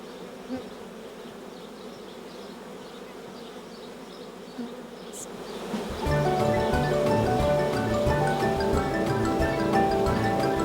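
A swarm of bees hums near old straw beehives, a steady buzz that swells abruptly halfway through into a loud, dense drone close by.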